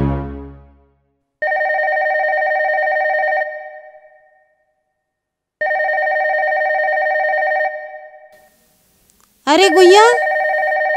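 A telephone rings in two long, loud, even electronic bursts with a gap between them, then a voice exclaims over a third ring.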